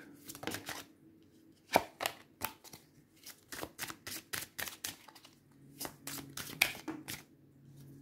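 Oracle cards being shuffled by hand, a series of crisp riffling flicks and slaps in irregular bursts, close and fairly quiet with no talking.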